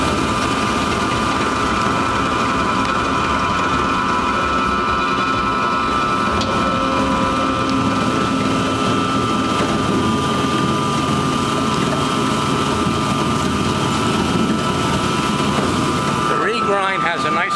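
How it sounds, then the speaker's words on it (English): A single shaft shredder runs steadily, its rotor turning at about 80 RPM while a hydraulic ram pushes material into the rotating cutters, making a loud, continuous mechanical drone with no break throughout. "You can see the rotor churning about 80 RPM, and the ram is now pushing the material"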